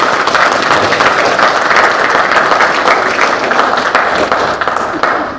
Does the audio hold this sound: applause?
yes